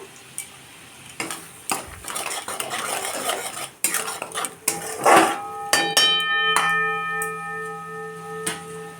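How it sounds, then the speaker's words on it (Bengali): A utensil stirs spice paste with chilli powder in a metal pan, giving clattering scrapes and knocks in uneven bursts, then a ringing metallic tone as the pan settles. "সেই মশলাটা ভালো করে কষানো হোক"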